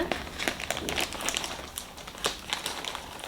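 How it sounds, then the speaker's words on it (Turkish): A plastic bag of puzzle pieces from a 1000-piece Anatolian jigsaw being opened, with steady close crinkling and rustling for a few seconds and no voices. "Hemen açalım poşetimizi."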